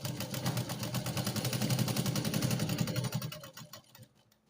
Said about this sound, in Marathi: त्याला सरळ चौकोनी आकारात मी शिलाई द्यायला सुरुवात करणार आहे.